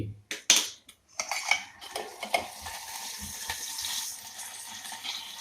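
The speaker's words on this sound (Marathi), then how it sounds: "पाय भाजून झाल्यानंतर पाय धुवून घ्यायचे" Roasted goat trotters are handled in water with a few sharp clinks and splashes at first, then a busy wash of water and metal scraping that carries on at moderate volume.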